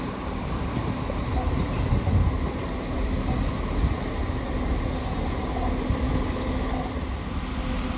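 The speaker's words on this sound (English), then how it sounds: "terminating in here at Crewe off of Newark Castle is going to be an East Midlands Railway service." An East Midlands Railway Class 175 diesel unit arriving at Crewe station, a steady low rumble and drone of the train in the platform, sustained and fairly even throughout with no talk.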